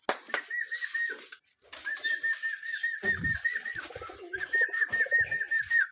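Pigeons coo close by in repeated throaty, rolling calls, with a few soft rustles between them.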